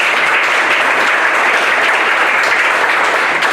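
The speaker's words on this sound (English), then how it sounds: "Yes, clap for that." Steady, dense applause from an audience at a roundtable event, loud and close, continuing without a break and with no voices over it.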